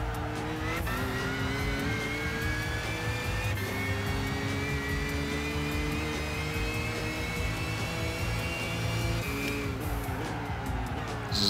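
A race car in Gran Turismo 5 at the 24h Le Mans race, its engine loud and continuous, rising and shifting in pitch through gear changes as it accelerates, with faint tire noise underneath.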